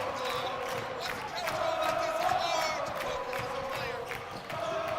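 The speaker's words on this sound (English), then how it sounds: "the crowd livens up here in the center" A college basketball crowd at a Yeshiva Macs versus Farmingdale State Rams game murmurs and swells steadily, with shoe squeaks and bouncing over the sustained arena din.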